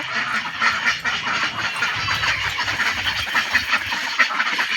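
Ducks quacking in a rural home yard on a morning outing, a busy, continuous chorus of calls at moderate distance with steady background noise throughout.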